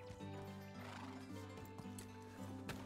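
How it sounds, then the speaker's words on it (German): Donkeys braying and whinnying inside the medieval survival game Medieval Dynasty, a steady harmonic animal call with clip-clopping hooves, loud and close throughout with no talking. "Da haben wir jetzt die Esel."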